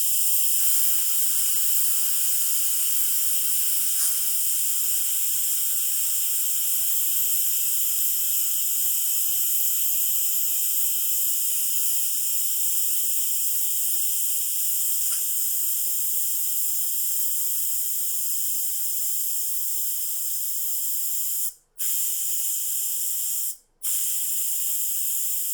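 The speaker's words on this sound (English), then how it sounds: "I'm going to press the valve and just let that come out until the valve is all the way down" Steam jets steadily out of a Kuhn Rikon Duromatic pressure cooker valve during a manual release, a loud continuous high hiss broken by two brief cut-offs near the end.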